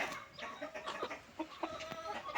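Andijan black chickens, a purebred flock on a mini farm, cluck and squawk in a busy overlapping chorus, close and fairly loud, with sharp individual calls popping out over the steady hen chatter.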